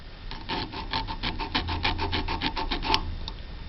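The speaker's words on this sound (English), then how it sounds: "We'll switch over to an actual mini file." A mini file scrapes back and forth over a heavily deposited turn signal flasher contact on a Jeep Wrangler, giving a rapid run of short, rhythmic rasping strokes, close and alone.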